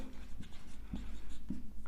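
A pen writes notes by hand on paper, with soft scratchy strokes and a few light taps, close and quiet against a low background hum.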